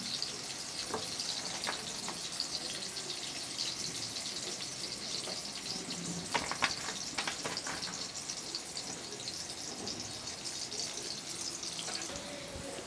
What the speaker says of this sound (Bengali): আমার আলুটা ভাজা হয়ে গেছে। এবার আমি তুলে নিচ্ছি।